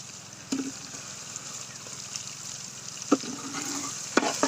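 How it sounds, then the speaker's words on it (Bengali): Meat being dry-stirred in a pan with no water added, a steady soft sizzle broken by a few scraping stir strokes, close and alone with no voices. "আমরা এটা এইভাবে মাংসটাকে পুরো কষাবো।"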